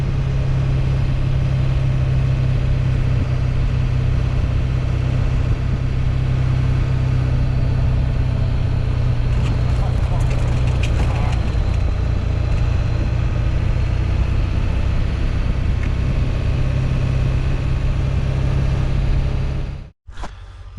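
A Ford OBS pickup with a 7.3 diesel engine drives through snow, a loud, steady low engine drone with a deep hum and road rumble, cutting out abruptly near the end.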